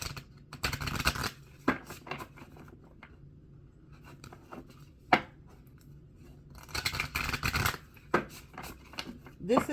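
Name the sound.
shuffling an Energy Spirit Oracle card deck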